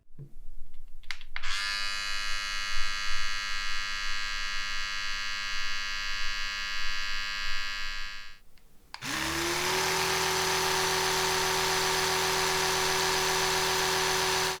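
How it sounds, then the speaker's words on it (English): An Oral-B iO Series 2 electric toothbrush hums with a smooth, steady tonal whine for several seconds, then stops. A louder, harsher buzzing brush motor then starts and runs steadily to the end. "A positive knock-on effect of the IO's new motor is the noise the brush produces"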